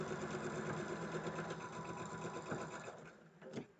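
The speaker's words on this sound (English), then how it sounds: "we're just going to flip and sew these, flip this over and sew, and we'll sew all three, we'll chain it through" A sewing machine runs steadily, chain-sewing three rows of fabric pieces one after another, its fast mechanical whir continuous and close throughout.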